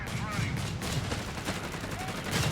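Rapid machine gun fire in the strategy game Company of Heroes 3 as a .30 caliber gun cuts down troops, dense overlapping bursts under a commentator's voice.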